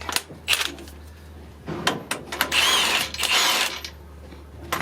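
Ratcheting tool tightening a bolt on the front strut of a 2003 Toyota 4Runner, with close bursts of rapid clicking separated by brief pauses over a low background hum.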